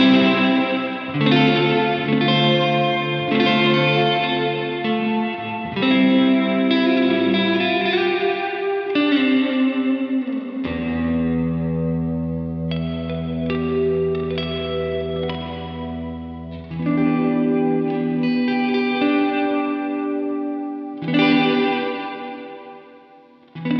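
Electric guitar played through a Cornerstone Nucleo reverb pedal on its hall setting: sustained chords and picked notes ringing into a wide, lush reverb tail, with a deep low swell in the middle and continuous loud sound, no talk.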